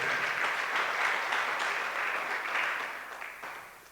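A church congregation gives a warm round of applause that holds steady for a few seconds and then fades. It is heard at moderate distance with no voices over it.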